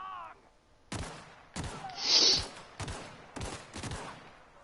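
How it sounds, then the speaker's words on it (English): Several loud, sharp gunshots ring out in The Outer Worlds, spaced in a ragged sequence with short decaying tails and a brief high whine in the middle. "my gun misfired right into his side"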